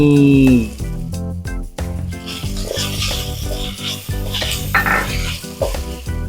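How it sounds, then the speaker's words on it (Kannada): Fresh green peas fried with tomato paste in a pan for vegetable pulao, stirred with a metal spoon: loud, close scraping and clinking strokes over a sizzling bed, with a voice briefly heard at the start. "ಈ ಬಟಾಣಿ ಒಂದು ಸ್ವಲ್ಪ ಹಸಿ ಸ್ಮೆಲ್ ಹೋಗೋ ತನಕ ಫ್ರೈ ಮಾಡಿ."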